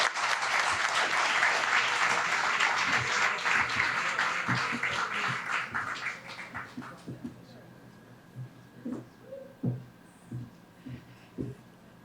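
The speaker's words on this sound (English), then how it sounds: "Give that incredible trio another round of applause" Audience applause for honorees at a Caribbean Heritage Month celebration, loud and steady at first, then thinning to scattered claps and fading out, with talk faint underneath.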